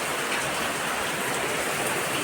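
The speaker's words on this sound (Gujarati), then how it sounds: "આ પૂર હજી ચાલુ જ છે વરસાદ" Heavy rain pours down in a dense, steady hiss during a flood in a village under red alert, close and unbroken throughout.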